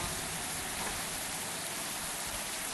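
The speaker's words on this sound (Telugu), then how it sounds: "సో వర్షం కూడా పడుతుంది అనమాట" Steady rain pouring down in a horror video game, a dense, even hiss of falling water throughout, fairly quiet and unbroken, with no voices.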